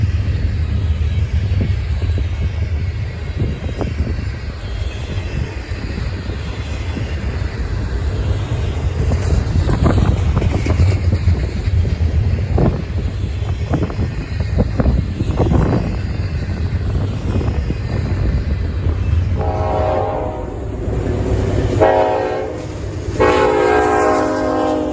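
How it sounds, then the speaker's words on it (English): A Norfolk Southern westbound freight, train 21E bound for Chicago, rolls by in Northwood, Ohio with a steady loud rumble throughout, its horn sounding in several blasts near the end. "Our next NS train of the day would be NS westbound train 21E"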